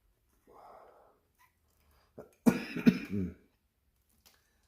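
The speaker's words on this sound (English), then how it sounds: "I wish I didn't get this cough every year." A person in a garage working on a basket-case Honda CRF150RB dirt bike gives a faint breath, then a cluster of harsh close coughs and throat clearing.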